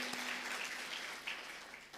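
Faint, distant applause from a graduation audience honouring a board member, a soft, steady wash of clapping that thins slightly toward the end.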